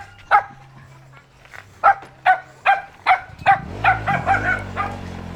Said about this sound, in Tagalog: Napakaingay na aso.